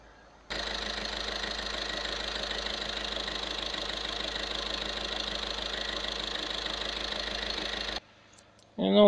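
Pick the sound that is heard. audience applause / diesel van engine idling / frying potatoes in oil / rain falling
diesel van engine idling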